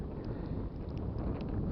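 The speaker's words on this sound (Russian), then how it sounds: "Невозможно, ветрище." Strong wind gusts across an open ice fishing pond on Alekseevsky Pond, a steady low roaring buffet pressing on the microphone throughout with no voices.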